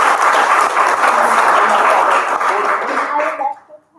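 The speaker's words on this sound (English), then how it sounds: "So let's have a applause for." Dense, enthusiastic applause from an audience at a company robotics event holds steady and loud, then thins out and fades to silence near the end.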